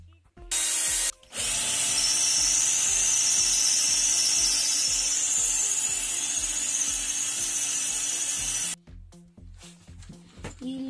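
Electric drill boring a hole in wood for a homemade two-pan balance scale: a short burst, a brief pause, then a long steady high whine running about seven seconds before stopping, close and loud with faint clicks after.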